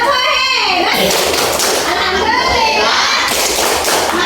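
Children clapping their hands together in a classroom: a burst of busy, overlapping claps close by, mixed with young voices and a teacher speaking.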